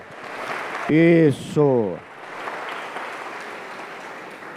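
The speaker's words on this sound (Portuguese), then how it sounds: "Os que disseram aleluia, deem um aplauso a Jesus" A church congregation applauds during a sermon, a steady patter of clapping that starts after a loud, drawn-out vocal exclamation from the crowd and continues evenly to the end.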